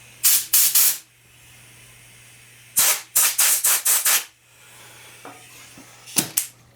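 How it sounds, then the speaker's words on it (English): Compressed air blasting dirt out of snowblower parts, a Craftsman machine, in bursts: three quick loud hisses, a pause, then a rapid run of five more, with a final short pair near the end over a faint steady hum. "I'll blow it out. Compressed air."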